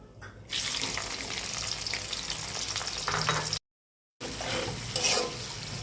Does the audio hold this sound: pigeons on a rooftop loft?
no